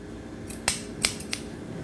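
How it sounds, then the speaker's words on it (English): Grooming scissors snip through a dog's fur in a teddy bear cut. Three crisp, close metallic cuts come in a quick uneven rhythm over a low steady background hum. "glide the scissors gently"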